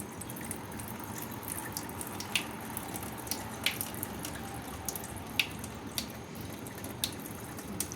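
Water pours and trickles steadily into a container while soaking batter ingredients, with faint drips and small splashes over a continuous running-water hiss.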